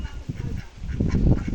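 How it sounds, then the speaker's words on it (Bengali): Ducks honk and quack close by as a boy chases them with a stick, a short burst of several overlapping calls that rise in loudness toward the end. "দেখছেন হাঁসগুলোকে কেমন তাড়া করেছে ঠ্যাঙ্গা নিয়ে।"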